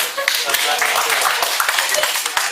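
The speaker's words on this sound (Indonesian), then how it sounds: "tepuk tangan dulu" A church congregation claps together during a Sunday sermon, a dense, steady burst of many hands filling the room for a couple of seconds, with voices mixed in.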